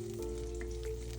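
Onions fry in cooking oil with a dense, steady sizzle close by, with no speech over it.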